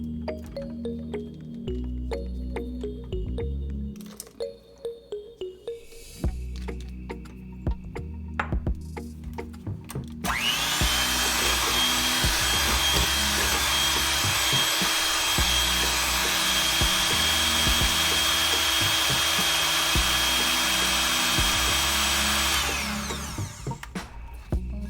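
Wet cake ingredients mixed with an electric mixer for a purple yam marble cake: clinking and scraping at first, then a steady loud mechanical whir lasting over ten seconds before it winds down.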